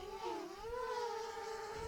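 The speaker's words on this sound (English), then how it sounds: "I can hear the drone fighting the wind a little bit" A Fimi X8 Mini drone flying overhead in wind above the Snake River Canyon, a steady high whining motor hum whose pitch wavers and shifts as it fights gusts, clear and continuous with no talk.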